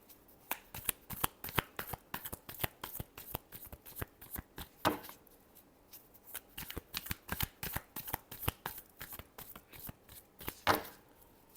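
A deck of tarot cards is shuffled close by, with rapid rhythmic riffling and soft slaps that build into two louder flurries.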